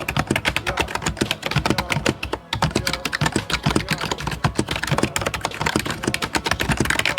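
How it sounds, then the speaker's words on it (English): A budget k98 full-sized silent membrane keyboard is typed on steadily, giving a dense, continuous run of soft, close keystroke clicks with only a momentary pause near the middle. "This keyboard is labeled as a silent keyboard, which is typical for membrane keyboards"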